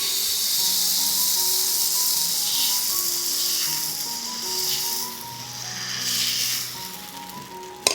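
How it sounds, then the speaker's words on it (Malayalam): Dosa batter spread on a hot tawa with no oil or ghee sizzles in a loud, continuous hiss up close, with a faint background melody and no talking. "തവ ഒന്ന് ചൂടായതിന് ശേഷം നമ്മുടെ ബാറ്ററിൽ നിന്നും 1 സ്പൂൺ മാവ് ഒഴിച്ച് പരത്തിയെടുക്കാം"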